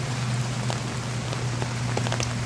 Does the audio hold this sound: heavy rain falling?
yes